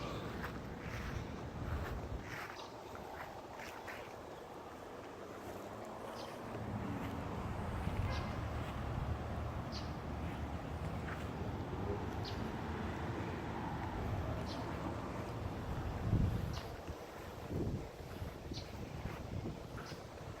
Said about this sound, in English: You have a little wind blowing.